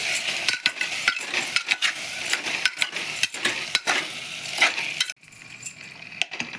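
A spoon scrapes and clinks against a pan while mixed vegetable sabji with carrots, capsicum and peas is stirred, rapid irregular metallic taps over a faint sizzle, close and fairly quiet.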